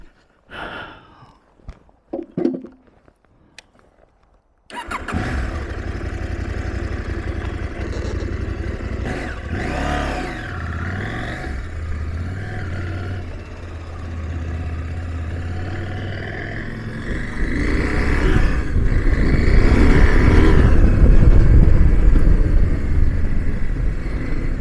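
KTM 790 Adventure motorcycle being ridden, engine note starting after a few seconds of quiet handling noise, then steady loud running with wind rush, swelling as the rider opens the throttle toward the end.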